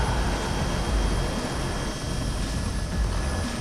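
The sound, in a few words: helicopter flying over Dakar rally stage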